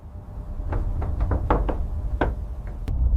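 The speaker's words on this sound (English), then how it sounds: "The first knock came 3 nights later" Knocking on a door, a loose series of sharp raps, some quick and clustered, others spaced apart, close and distinct over a low rumbling background.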